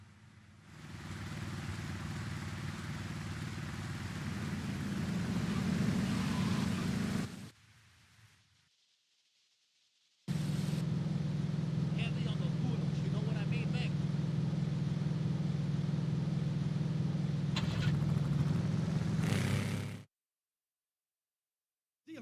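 Vehicle engine driving in a video game, a steady low rumble with road noise held for about seven seconds, cutting out briefly, then resuming for another ten seconds before stopping abruptly.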